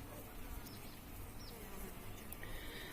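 Honeybees in a hive built on tall, narrow Ukrainian-style frames, a steady, soft, continuous buzzing hum that holds throughout with no talk.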